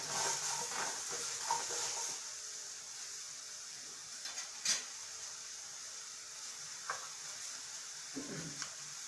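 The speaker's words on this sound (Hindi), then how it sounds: "ये अमरूद इनको डाल देंगे। इसको इसमें मिक्स कर लेंगे अजवाइन में अमरूद को अच्छे से।" Chopped guava stirred into an ajwain tempering in a hot pan, with a steady low sizzle and scattered soft scrapes and clinks of a spoon against the pan over about nine seconds.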